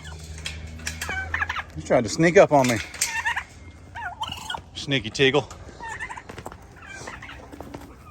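Turkeys gobble several times in a backyard flock kept alongside chickens, with bursts of calls in the middle and a person talking quietly at the start and end.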